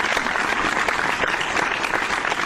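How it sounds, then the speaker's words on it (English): A pre-recorded clapping sound effect plays, dense, even applause from a crowd at steady moderate loudness for a couple of seconds, with no gaps. "today we don't have the clapping, the pre-trained clapping sound"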